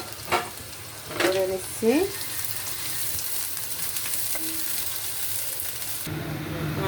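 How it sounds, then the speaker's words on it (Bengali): Sliced onions hiss and sizzle as they drop into hot oil for fried onion topping in a homemade chicken kacchi, a steady frying crackle with some stirring clatter and a brief spoken phrase. "আমার তেল এখন গরম হয়ে গেছে, এখন আমি পেঁয়াজটা ছেড়ে দিচ্ছি"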